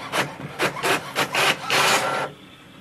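An HP OfficeJet Pro 9025 printer runs a copy job, giving a series of loud, close rasping mechanical passes in quick rhythmic bursts, then a steadier whir that drops away at the end.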